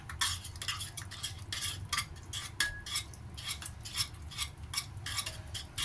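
Ingredients for Korean curry stirred in a pot: continuous scraping and clinking of a utensil against metal in quick, uneven strokes, close and moderately quiet, with no talking.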